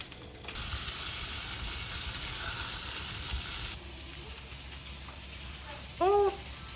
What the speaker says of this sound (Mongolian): Шүл буцалж юм.